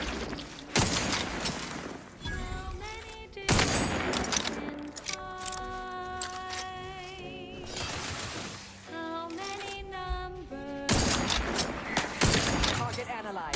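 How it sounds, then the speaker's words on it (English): Grenades going off in The Outer Worlds 2, repeated broad bursts rolling through a busy game mix with music and tonal effects, a few heavy blasts spaced across the stretch, mid-distance and loud. "I'm just throwing nades"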